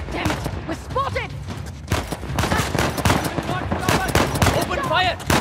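Rapid bursts of gunfire and explosions in the video game Uncharted The Lost Legacy, loud and dense throughout, mixed with game character shouts and music.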